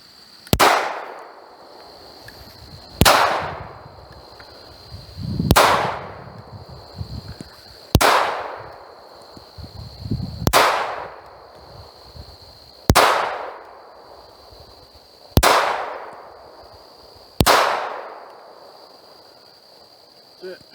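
A Smith & Wesson 4566 .45 ACP pistol fired at a 21-foot target, eight loud sharp shots spaced roughly two to three seconds apart, each ringing out with a short echoing decay.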